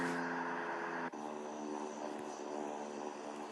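Lockheed C-130 turboprop engines droning in the Infinite Flight simulator, a steady loud propeller hum with tonal whine that continues unbroken, no talk.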